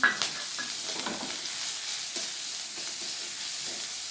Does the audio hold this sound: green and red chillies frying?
yes